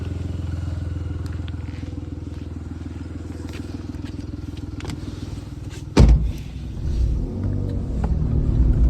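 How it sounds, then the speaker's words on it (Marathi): A four-wheeler drives along a rural road between Sarole Thadi and Nandur in Niphad taluka, giving a steady low engine rumble that swells with a sudden loud thump partway through, then a heavier rolling drone. "या साईडने फोर व्हीलर आली"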